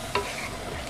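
A spoon scrapes once through rice porridge (lugaw) in a frying pan, a brief stirring scuff over a steady low sizzle, close and without speech.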